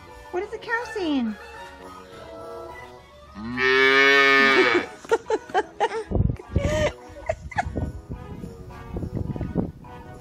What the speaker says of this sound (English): What is the cow saying?